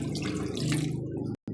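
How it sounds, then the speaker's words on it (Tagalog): Water pours and splashes into a cooking pot while preparing fish paksiw, a brief steady gush that cuts off near the end. "Tapos lagyan natin ng tubig."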